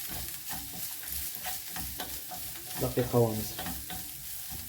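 Grated carrots stirred with other ingredients in a pan, soft scraping and light sizzling in a gentle rhythm, fairly quiet and near, with a brief voice heard.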